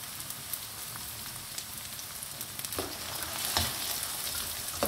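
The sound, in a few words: finely chopped carrot frying, stirred quickly with a spoon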